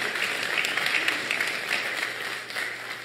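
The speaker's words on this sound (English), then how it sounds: "Can you give a great applause to those who did the decorating around the church?" Congregation in a church applauding the people who decorated it for Christmas, a steady wash of many hands clapping that tapers slightly toward the end.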